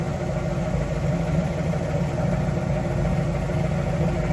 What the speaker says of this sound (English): Go ahead and rev it.